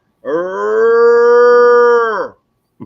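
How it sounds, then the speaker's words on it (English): A cow lows once in a long, steady, clear moo of about two seconds against a quiet background, with a brief faint sound just after it ends. "That sounds like a cow."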